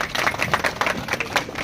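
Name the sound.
everyone clapping at Christmas celebration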